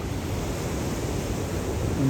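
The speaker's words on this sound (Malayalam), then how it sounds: "തിര നല്ല ഇങ്ങനെ പൊന്തി വരുന്നുണ്ട് ഇവിടെ കല്ലിൽ തട്ടിയിട്ട്" Sea waves break against rocks along a rough coast in a dense, continuous wash of surf noise, loud and close, with some wind rumble and no distinct individual crashes.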